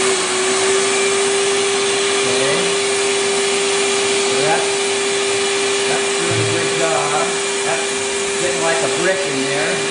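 A vacuum sealer draws air out of a plastic food storage bag, giving a steady loud motor drone with a constant tone throughout, while people talk faintly in the background.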